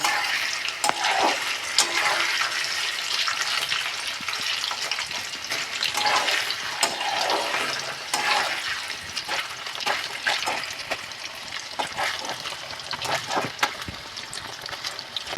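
Paneer cubes frying in oil in a pan on a gas stove, a steady close crackling sizzle broken by occasional sharper pops and stirring clatter, continuing without pause and with no talking.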